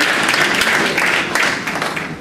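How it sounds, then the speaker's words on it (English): A lecture audience gives a dense, even round of applause at the end of a talk. The clapping stays full for most of the stretch, then thins slightly toward the end. "Applause."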